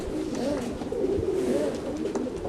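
A racing homer pigeon hen coos in soft, repeated rolling phrases, close and moderately loud against a light background murmur.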